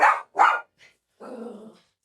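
A dog gives two loud, close barks, a faint yip, then a low, rumbling growl lasting about half a second, with no voices.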